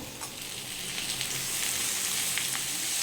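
Masala with chili powder and oil frying in a pan for a curry, a dense, continuous close sizzle that swells slightly and holds steady for a few seconds, no voices.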